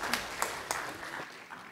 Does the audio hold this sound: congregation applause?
yes